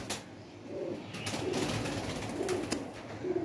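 Low, soft pigeon coos repeat at a relaxed pace over a steady background hiss, with a few faint clicks and no talking.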